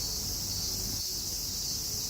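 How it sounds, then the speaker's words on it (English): Cicadas drone steadily at night outdoors, a continuous dense high-pitched buzzing chorus filling the air without pause, moderately loud and unaccompanied by voices. "I think the silence would be deafening if not for these cicadas."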